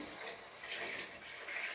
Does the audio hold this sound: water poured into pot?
yes